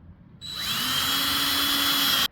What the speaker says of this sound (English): drill your holes